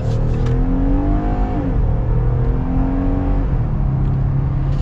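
A pickup truck engine, a 2021 Jeep Gladiator Mojave or 2021 Ford Ranger Tremor, revs up steadily under load at about 4,500 feet, pitch climbing then dropping as it shifts, loud and close throughout with no talking.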